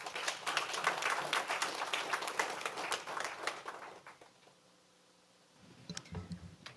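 An audience at a board of governors meeting claps in a dense burst of applause that fades to near quiet, then a few scattered claps return.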